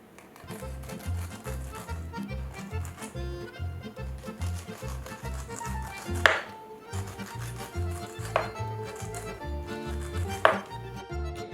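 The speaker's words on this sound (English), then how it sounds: "I'm going to slice the fruit down on each side, 3 or 4 slices per side, and then I'm going to cut it into smaller pieces" Knife slicing a fruit into pieces on a board for a Trini veggie pizza, a quick steady run of soft chopping taps, close and clear, broken by a few sharper knocks.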